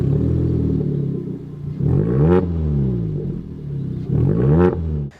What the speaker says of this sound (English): The slightly larger pipes at the back really look good and they do sound fantastic.